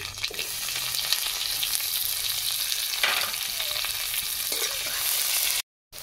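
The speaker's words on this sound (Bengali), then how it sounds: "পেঁয়াজ আর রসুন কালো জিরে একটা ভাজা ভাজা গন্ধ বেরোচ্ছে" Chopped onion, 4-5 minced garlic cloves and nigella seeds fry in a pan with a loud, steady, close sizzle. The sound runs unbroken apart from a brief dropout near the end, with no voices.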